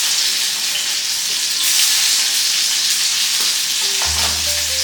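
Fish sizzles and fries steadily in a hot pan, a loud dense hiss with faint crackles throughout, heard up close and without talk.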